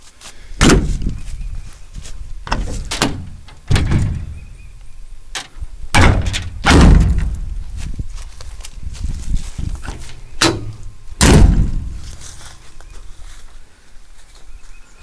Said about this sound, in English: All the doors open and close on it.